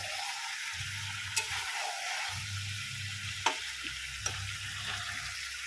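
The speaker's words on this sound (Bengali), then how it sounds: "আর এখানে এই যে মাংসও কষছে।" Chicken being cooked down (kosha) in a pan on a home stove, a steady soft sizzle under occasional low bubbling pulses and a few sharp clicks of a utensil against the pan.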